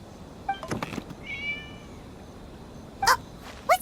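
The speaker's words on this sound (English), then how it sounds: "It was just a cat." A cat in the game Genshin Impact gives several short meows, a couple early, a drawn-out cry in the middle and two sharp ones near the end, close and distinct against a quiet background.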